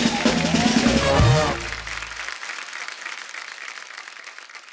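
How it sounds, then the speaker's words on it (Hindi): Studio audience applause for a contestant on a comedy talk show, a loud burst of clapping that starts under a voice and music, then fades to softer, thinning claps. "इनके लिए जोरदार ताली"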